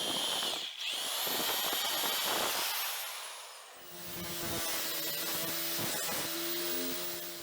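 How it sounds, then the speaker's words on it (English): A power drill bores holes into the wooden main trunk and front axle of a homemade wooden cart, whining and grinding steadily up close with a short pause midway. "the front of the main trunk and the middle of the front axle are drilled"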